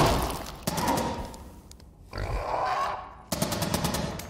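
Gunshot sound effects in a game sound design reel: two loud, dense bursts of rapid gunfire, separated by a rumbling tail and a short quieter gap.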